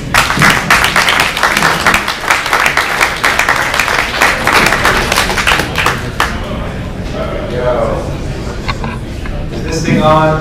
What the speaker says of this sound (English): give a round of applause for Mahbod